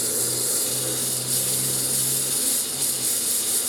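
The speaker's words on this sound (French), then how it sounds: "maintenant, on va faire le ponçage en dessous. Ça, c'est un grain 80. On est à peu près à 600 tours." A power sander working the underside of a misshapen wooden piece with 80-grit paper at about 600 rpm gives a steady, fairly loud whirring drone with a low hum, running continuously from start to finish.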